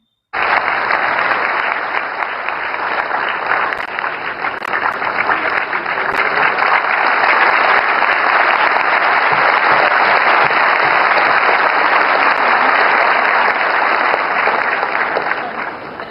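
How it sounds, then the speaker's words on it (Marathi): A large hall audience bursts into sustained, even applause at a public event with PM Modi and Sharad Pawar on stage. The dense clapping holds steady for about sixteen seconds before tapering off. "उपस्थितांनी टाळ्या वाजवत या कृतीचे कौतुक केले आहे"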